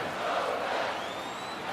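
Baseball stadium crowd at a Cubs versus Mets game cheering in a broad, distant roar that holds steady at a moderate level.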